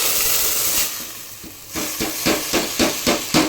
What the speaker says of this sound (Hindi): ये तेल गरम हो रहा है तो इसमें जीरा डाल दिया है